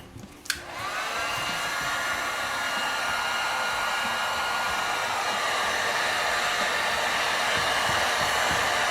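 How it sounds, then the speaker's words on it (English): Steady, loud blowing roar of a heat gun on its low setting drying cleaned clock parts from a Seth Thomas kitchen clock, starting with a click and running continuously throughout. "Now we'll dry them on low with a heat gun."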